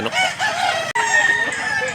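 Close, loud crowing from a white Kelso rooster, a single sustained cock-a-doodle-doo broken by a brief gap partway through.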